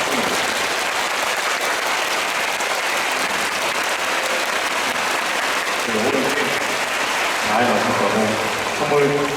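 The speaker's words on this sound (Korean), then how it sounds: "여러분 박수 한번" Applause from a concert audience at a talk concert in Seoul, a dense wash of clapping that carries throughout, with hints of voices and cheering rising near the end.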